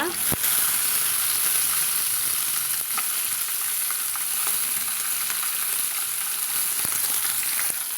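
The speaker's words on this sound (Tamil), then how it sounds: "கூடவே ஒரு சின்ன இந்த சைஸ் தக்காளி வந்து நான் பொடுசாக இது போல் வெட்டி வச்சுக்கிறேங்க அதையும் நம்ம வந்து சேர்த்துக்கலாங்க" Small finely chopped tomato sautés in a hot pan, producing a dense, loud, unbroken sizzle with a few sharp stirring clicks scattered through it, heard close with no speech.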